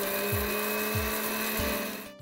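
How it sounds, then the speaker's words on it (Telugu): A mixer grinder whirs steadily, grinding green chillies with about a bundle and a half of fresh coriander for a tomato vegetable omelette; the loud continuous motor hum runs throughout, with a few dull knocking surges, before cutting off near the end. "కొత్తిమీర కలిపి ఇవి కూడా మిక్సీలో పట్టాలా? గ్రైండ్ చేసుకోవాలి."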